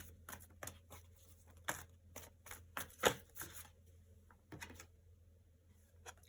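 Tarot cards are shuffled by hand in quick, crisp riffling bursts, close and quiet, with short pauses between them.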